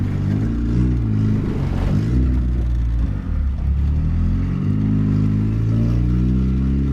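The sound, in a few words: boosted F23 Honda Accord engine running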